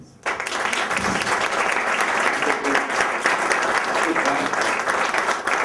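Audience applause at a session in Ramallah on modernity, architecture and urbanism in the Arab world: after a brief quiet moment, a crowd breaks into sustained, dense clapping that stays loud and even throughout.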